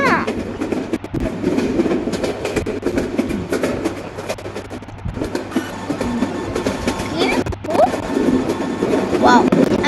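A Meghna Express train rolls through Pahartali station in Train Simulator Bangladesh, giving a steady rumble with rail clatter and occasional squeals, while someone talks over it throughout.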